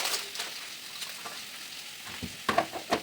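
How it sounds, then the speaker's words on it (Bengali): Vegetable curry sizzles and fries in a pan, a soft continuous crackle broken by several scraping stirs and clinks, the louder ones near the end. "তরকারিটা ভাজা হয়ে গেছে"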